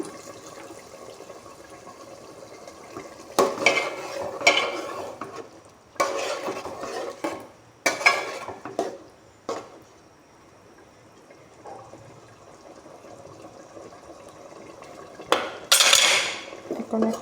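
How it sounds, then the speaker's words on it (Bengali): Fish curry being sautéed in a pan: intermittent bursts of spatula scraping and clattering against the pan over a low background, with quiet stretches between strokes. "মাছ দিয়ে কিছুক্ষণ কষিয়ে নেব"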